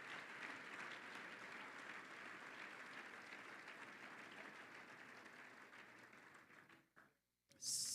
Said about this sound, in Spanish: Alguien aplauda fuerte al Rey de Reyes y Señor de Señores